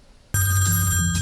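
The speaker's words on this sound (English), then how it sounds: "Tony Hawk, of course, played the integral role of Guy Answering Phone in 1989's Gleaming the Cube." A telephone rings in a scene from the 1989 film Gleaming the Cube, a steady electronic bell tone that starts abruptly after a brief quiet moment and carries on loud and close with no talking.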